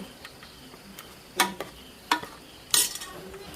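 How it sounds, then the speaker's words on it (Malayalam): A spoon stirs and presses jackfruit seed curry in a pan, giving three soft scraping, thudding strokes spaced about a second apart over a quiet background with a faint sizzle. "നന്നായിട്ട് ഇതുപോലെ കുത്തി ഇളക്കി കൊടുക്കാം"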